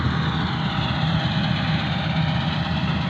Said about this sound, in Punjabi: ਤੇ ਆ ਮੁੰਡੇ ਦਾ ਟਰੈਕਟਰ ਆਈ ਮੈਸੀ 9000